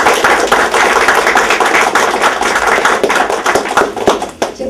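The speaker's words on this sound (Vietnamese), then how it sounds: "Xin trân trọng một tràng pháo tay nữa dành cho các em." Dense, sustained applause from an audience at a short-film award ceremony, steady and loud throughout with many overlapping claps that thin slightly toward the end.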